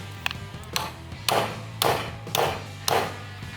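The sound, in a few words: bending metal bracket in a vise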